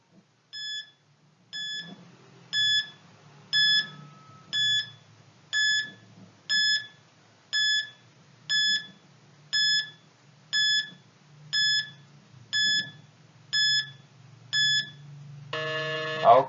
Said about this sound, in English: You are given 15 seconds to arrange the numbers from greatest to least. Your timer starts now.